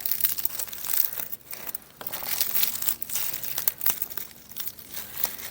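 Roasted garlic being peeled by hand while making roasted tomato soup, with close, continuous crinkly crackling of papery skins and small rustles in irregular bursts, without talk.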